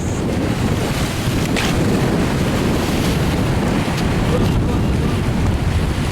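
Strong wind buffets the microphone aboard a sailing boat on an academic sea expedition as waves build, a loud continuous roar of gusts and surf washing over the full six seconds with no clear speech.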